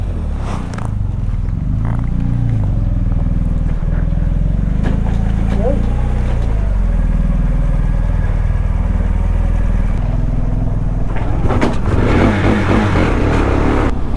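A KTM motorcycle engine, push-started on a slope in light drizzle, runs and idles with a steady low rumble, then revs up toward the end, with scraping and rattling around it.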